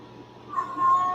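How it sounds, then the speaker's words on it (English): A Siamese cat gives one short, rising meow indoors, moderately close and fairly quiet over a faint background hum. "And there goes my Siamese cat"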